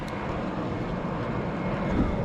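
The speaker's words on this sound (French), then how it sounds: "on a un avion d'Air France qui va se poser sur l'aéroport de Nice" An Air France airliner coming in to land at Nice airport, heard as a steady broadband jet roar that holds level throughout and swells slightly toward the end.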